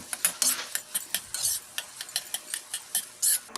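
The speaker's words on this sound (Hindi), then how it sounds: "ये आलूओं को भी हम लोग इसमें डाल के मैश कर देंगे और अच्छी तरीके से मिक्स कर देंगे।" Boiled potatoes being mashed and mixed with spices and garam masala in a pan for samosa filling, with repeated sharp scraping and tapping strokes of a utensil against metal, close and fairly quiet, with no talking.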